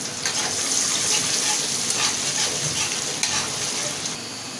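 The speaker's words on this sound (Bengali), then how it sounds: "এই তেলে আমি পেঁয়াজ দিয়ে দেব।" Sliced onions frying in hot oil in a home kitchen pan, used earlier to fry hilsa fish for a thin curry with green bananas, giving a loud, continuous crackling sizzle with a few sharper spits and no talk.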